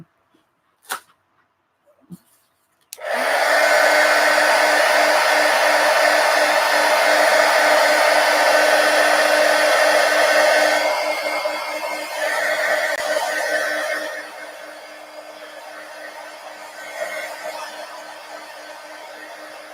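A hair dryer runs loud and steady for about eight seconds to dry a collage, then drops to a lower setting and fades. A few sharp clicks and taps come before it starts.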